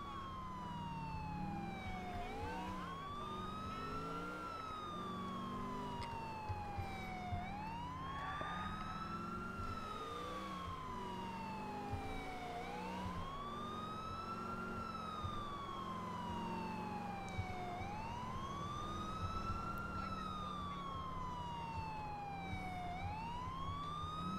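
Police sirens from the Grand Theft Auto IV video game wail continuously in slow rising and falling sweeps, several overlapping, over steady traffic and engine noise with no talk.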